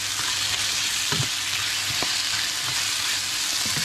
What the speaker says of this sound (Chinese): 昨天剩下的回锅肉啊，然后呢再放点这个绿叶子上海青给它炒一炒啊